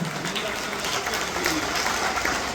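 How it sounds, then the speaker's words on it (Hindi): A crowd applauds steadily at a community convention, dense clapping filling the space for a few seconds at a fairly loud, even level. "तालियों से हम आप सभी का अभिवादन करते हैं।"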